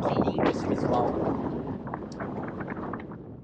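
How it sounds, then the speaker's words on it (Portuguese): Strong wind at Península Valdés in Patagonia, Argentina, buffets the microphone in loud, gusty rumbling bursts, with a voice partly audible beneath the roar. "Mas o vento tá bizarro."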